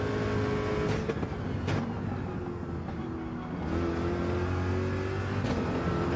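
Corvette engine in the racing game Gran Turismo 7, a steady droning engine note that rises and shifts in pitch with a short dip midway, continuous and moderately loud with no voices.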